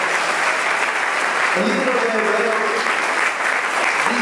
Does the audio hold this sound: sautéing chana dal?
no